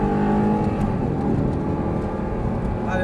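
An Audi R8 accelerating hard on the Marcoussis circuit, a loud, steady engine roar heard from close by that holds throughout.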